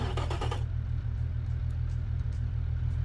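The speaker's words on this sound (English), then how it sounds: "Let's fire this beautiful looking V6 engine." A V6 engine idles steadily in a car-building video game, a loud low rumble holding constant after a brief burst of clatter at the start.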